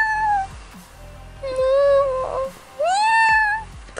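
A domestic cat meows three times up close, each call a clear, rising-then-falling tone, with quiet pauses between them and no talking.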